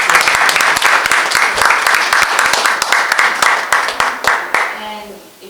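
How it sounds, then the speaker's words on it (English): A gallery audience at the Two Mississippi Museums gives a round of applause, loud and close with dense clapping that tapers off near the end, then a voice begins speaking. "we'll have to give them another round of applause"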